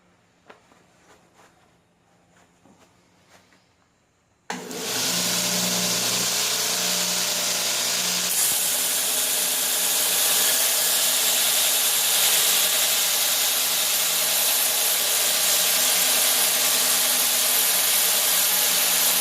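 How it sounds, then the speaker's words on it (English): A steady, loud whir of a belt sander starts abruptly after a quiet moment and grinds on continuously, a steel railroad spike rasping against the abrasive on the platen. "working on getting the side that you do the sanding with dead flat on the platen here"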